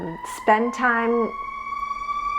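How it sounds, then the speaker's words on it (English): A distant emergency siren wails steadily in the background while a person speaks over it. "sorry for that siren in the background."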